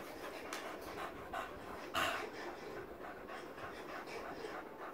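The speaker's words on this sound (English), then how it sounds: "My dogs are out of breath." Dogs panting hard after exertion, a close, quiet, rapid rhythmic huffing of breath with one brief louder exhale midway, no talking.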